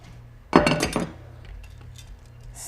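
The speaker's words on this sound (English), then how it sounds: "So I'm gonna pull that out of the microwave." A glass dish of pasta clinks and clatters briefly against a hard surface as it comes out of a microwave, a short cluster of bright knocks followed by quiet background hum.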